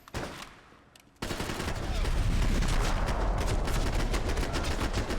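Sustained automatic gunfire erupts after a brief short burst in the shooter Max Payne 3, a dense, loud, unbroken roar of shots that rattles on steadily to the end.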